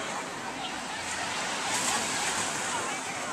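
Ocean waves wash onto a beach on Culebra, heard as a continuous, fairly faint broadband rush with some wind across the microphone.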